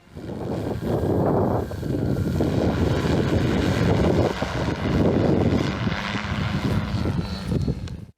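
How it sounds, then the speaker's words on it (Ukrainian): A steady propeller drone of a military bomber drone buzzes loudly and continuously, its droning hum mixed with wind rumble throughout, no voices. "уже готують дрон, який незабаром полетить бомбити ворога"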